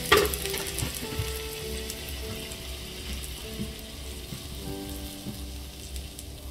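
Green salsa of blended ingredients sizzles steadily in a frying pan where garlic and onion were browned, a dense, even crackle that stays close and constant throughout with no voices.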